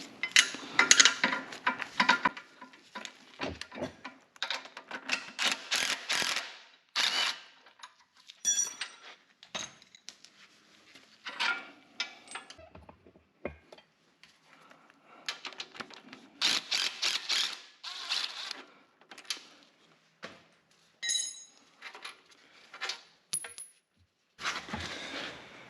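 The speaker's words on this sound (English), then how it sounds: "let's pull these retaining bolts out." A ratchet wrench works 9/16 retaining bolts out of a backhoe bucket on a 260B backhoe, giving bursts of rapid metallic clicking separated by pauses, with occasional clinks of metal parts, close and with no talk.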